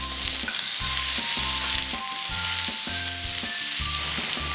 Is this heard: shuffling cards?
no